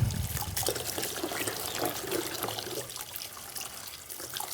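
Muddy soil sample being stirred by hand in a bucket of water for flotation, a continuous close sloshing and trickling of swirling water, no voices.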